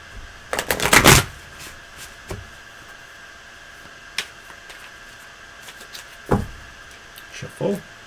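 Tarot cards are shuffled by hand in a few short, crisp bursts of riffling and tapping, separated by quiet gaps, close to the microphone.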